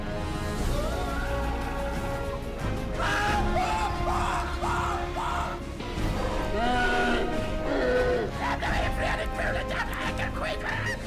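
A man lets out repeated loud yells and bellowing screams, strained and drawn out, with several separate outbursts set against a busy background of other sound.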